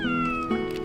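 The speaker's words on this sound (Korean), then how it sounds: "고양이가 왜 이렇게 많아?" A cat meows on abandoned Ikeshima island, a drawn-out tonal cry that slides downward, followed by a second, shorter meow close by, over a quiet outdoor background with no talking.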